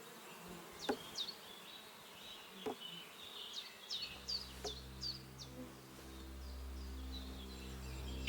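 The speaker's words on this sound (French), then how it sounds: "Il y a une ruche là." A beehive in the video game Kingdom Come: Deliverance 2 gives off a faint insect buzz behind quiet outdoor ambience, with a few sharp bird chirps, then a steadier low drone rises in the second half.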